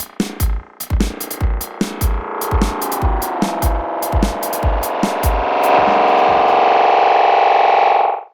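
A drum pattern runs through an analog delay plugin with its feedback turned all the way up. Sharp repeating hits pile into echoes that smear into a loud, sustained, self-oscillating distorted tone. The tone swells and holds before it cuts off abruptly.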